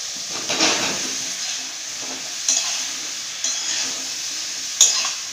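Chunks of eggplant and tomato sizzle steadily in a hot pan, with a spoon or spatula stirring and scraping in a few distinct strokes over the constant frying hiss.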